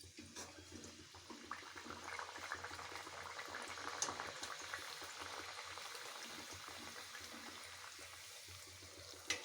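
Thin rolled luchi puris fry in hot oil in a kadai, a faint, steady bubbling hiss that stays level throughout, with no voices.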